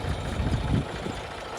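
A worn-out tractor engine chugs steadily in a weedy field after rain, a loud, close, low throbbing that swells briefly and then settles into an even idle-like drone.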